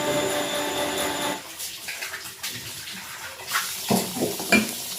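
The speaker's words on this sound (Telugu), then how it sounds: "ఇప్పుడు ఇందులో మనము పులుసు వేసుకున్నాం" Tamarind water poured into a pot of Telangana-style mutton kurma, a close splashing and gurgling that settles into irregular sloshes and drips.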